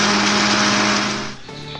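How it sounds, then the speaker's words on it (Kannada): Mixer grinder blending onion and tomato into a paste for Kaju egg masala, a loud, steady high-pitched whir running close up that cuts off near the end, leaving a brief rattle. "ಟೊಮೆಟೊನು ಹಾಕೊಂಡು ಚೆನ್ನಾಗಿ ಪೇಸ್ಟ್ ಆಗೋ ತನಕ ರುಬ್ಕೋಬೇಕು"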